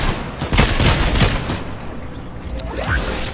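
Rapid automatic gunfire in the Apex Legends video game, a dense burst of shots and booms filling the whole stretch with little pause, loud and close, with a few sharper cracks near the end.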